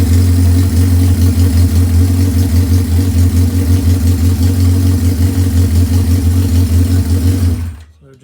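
A Honda CB550 four-cylinder motorcycle idles during carburetor synchronization, a loud, close, steady low throb with an even pulsing rhythm that cuts off abruptly near the end.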